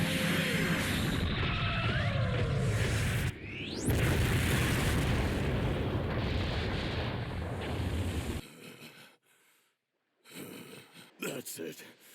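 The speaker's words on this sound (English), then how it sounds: "Light grenade!" A light grenade going off in a Dragon Ball Z Abridged scene, a loud roaring blast sustained for several seconds amid dense layered effects, then a sudden cut to quieter rumbles and voices.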